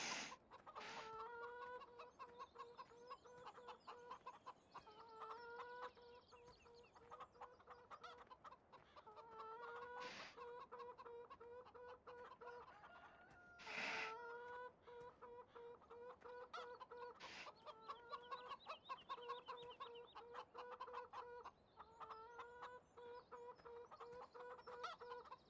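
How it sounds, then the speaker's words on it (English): Chickens in the farm video game Farming Simulator 17 cluck steadily in a repeating loop, broken by sharper squawks every few seconds. "Let's check on the chickens."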